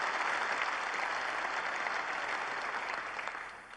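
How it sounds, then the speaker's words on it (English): The crowd at a 2002 UK Championship snooker match applauds, a steady wash of clapping heard from a distance that fades slightly near the end, with no talk over it. "Applause from the crowd"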